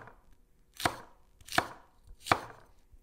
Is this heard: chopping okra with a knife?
yes